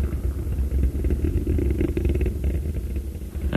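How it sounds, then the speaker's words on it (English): Space Shuttle Atlantis main engines during the STS-43 launch, throttled back from 104% to 81% thrust: a steady, heavy low rumble with crackling texture, continuous and loud throughout with no voices. "Engine throttling down and holding well."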